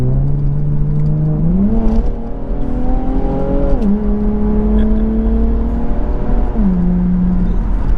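An Infiniti Q60 Red Sport 400 is driven hard on open back roads, its engine droning loud and steady from inside the cabin, pitch climbing and dropping through several gear shifts over constant road and wind roar.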